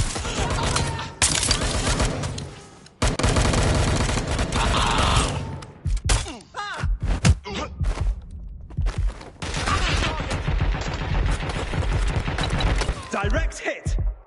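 Rapid automatic gunfire in the shooter game Watch Dogs Legion, loud bursts of rattling shots broken by short pauses, with scattered clatter and a few quieter gaps between volleys.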